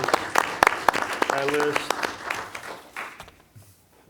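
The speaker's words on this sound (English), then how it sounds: "And a round of applause for all the efforts for everyone on" Audience applause at a school district board meeting, clapping that swells and then fades out, with a speaker talking over the start.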